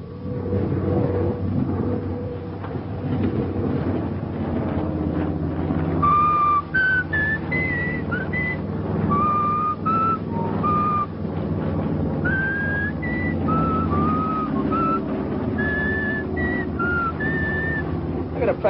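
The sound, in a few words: person whistling a tune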